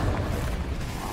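A Confringo blasting spell detonates in a Harry Potter video game, a deep booming explosion with rumbling low end that swells briefly and rolls on without voices.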